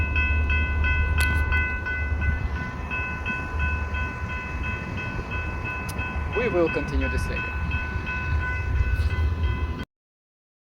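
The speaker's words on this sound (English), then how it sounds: "Okay, that's the train." A train passing nearby, a loud sustained rumble with steady horn-like tones running throughout, while a voice speaks briefly over it before it cuts off.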